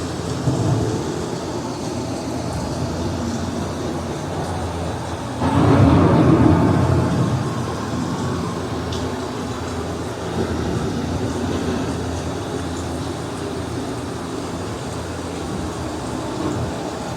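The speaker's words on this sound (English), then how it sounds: "The approaching storm may seem violent and destructive to us" A thunderstorm sound effect on the EPCOT Living with the Land ride: steady heavy rain with a low rumble of thunder swelling about a third of the way in, then fading back into the rain.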